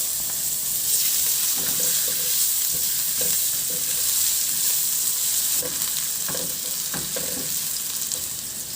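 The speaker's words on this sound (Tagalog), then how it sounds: "igisa ko na yung bawang," Garlic and ginger sauté in a little oil in a pan, a loud, constant, close sizzle with intermittent stirring scrapes throughout and no voices.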